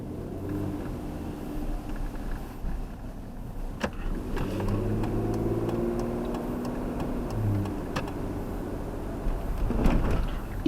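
Car engine and exhaust droning steadily at about 2,000 RPM, a close, continuous low hum with a slight swell near the end and no talk.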